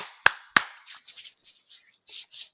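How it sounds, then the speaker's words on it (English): Two sharp, close hand claps in quick succession ring out in a quiet room, followed by soft rubbing and brushing sounds. "clap, clap, clap."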